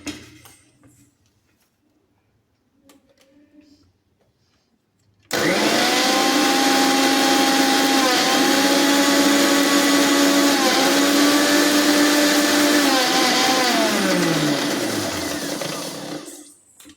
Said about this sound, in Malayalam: ഇതെല്ലാം കൂടെ നമ്മൾ ബോഷ് എന്ന മിക്സിയിൽ അരയ്ക്കും